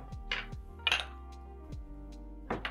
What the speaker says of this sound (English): I'm going to place my bowl aside